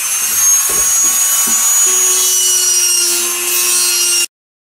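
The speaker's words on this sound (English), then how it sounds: "Just go ahead and try and scrape off some more of the blue paint that's on here." Blue paint being scraped off a 1963 Falcon steering wheel during a restoration, a steady close rasping and rubbing that runs for about four seconds with no talking.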